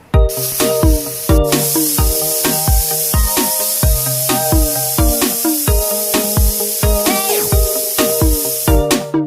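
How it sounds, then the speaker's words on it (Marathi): A pressure cooker with chicken curry inside vents continuously, a loud close rapid rattling hiss of steam pulsing rhythmically throughout without any voices. "तर आता आपण 2 शिट्ट्या करून घेणार आहोत।"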